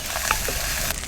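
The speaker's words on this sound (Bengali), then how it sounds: "এদিকে পেঁয়াজ, আদা, রসুন বাটা আর একটু ভালো করে ভাজা ভাজা হতে থাক।" Onion, ginger and garlic paste fries in oil in a pan, giving a close, steady, dense sizzle with a few faint pops, and no voices.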